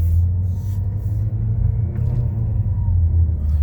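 A 2018 Ford Focus automatic with a clutch B fault, hard-shifting and skipping from first to third gear, gives a steady, close, heavy low rumble from engine and road with no distinct separate event.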